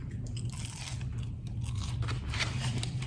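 Crisp crunching bites into a Jollibee ube snack during a mukbang, a cluster of close, brittle crackles and chews packed into a few seconds, heard without talk.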